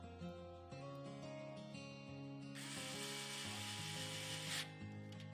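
Screwdriver driving the final screw that holds a radiator into a PC case, a close, soft series of ratcheting clicks and a brief rough rasp as the screw seats.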